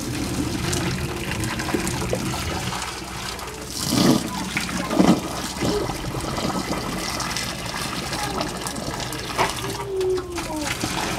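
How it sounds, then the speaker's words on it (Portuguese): Boiling water is poured into a household drain to clear a bad smell, giving a steady gushing, gurgling flow with a few louder splashes, while a voice talks over it. "Depois eu venho e coloco a água a ferver."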